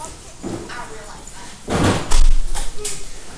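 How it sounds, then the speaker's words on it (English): A door being closed indoors, with a muffled thump and rattle partway through, followed by further knocking sounds, as people talk nearby. "Make sure the door's closed."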